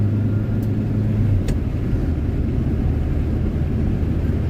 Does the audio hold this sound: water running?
no